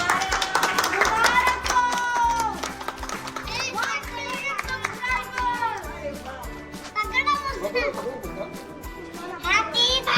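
A group claps steadily amid lively children's voices and chatter, with the clapping strongest at the start and continuing throughout.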